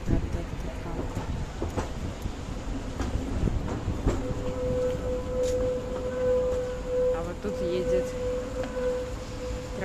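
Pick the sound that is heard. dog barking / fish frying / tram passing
tram passing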